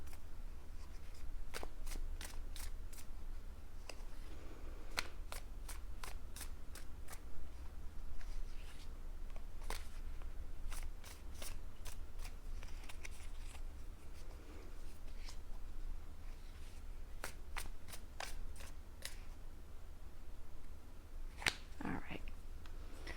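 Tarot card decks being shuffled by hand, with repeated crisp riffles and slaps of the cards coming in bursts over a low steady hum, close and fairly quiet, with no talking.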